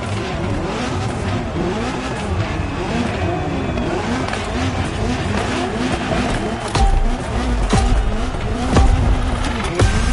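A Ferrari GTO supercar in the video game The Crew Motorfest, its engine droning steadily and climbing through revs, with brief tire noise and a couple of sharp knocks late on.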